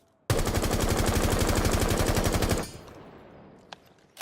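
Sustained automatic gunfire in Rainbow Six Siege, a rapid even burst of about two and a half seconds fired while holding down recoil, then a fading tail and a couple of faint clicks.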